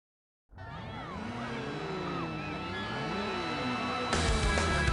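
Race cars in the video game Need for Speed Underground 2 rev and accelerate steadily, engine pitch rising and falling through gear changes, with a sharper burst of noise near the end.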